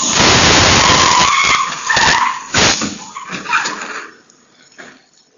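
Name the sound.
car of a drunk driver skidding in front of a house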